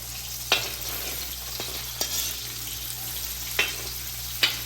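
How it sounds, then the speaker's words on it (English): Onion frying in hot oil on a stove, a steady sizzle throughout with a few sharp crackles and pops, close and fairly loud with a constant background hum. "Ooh, you hear that sizzle?"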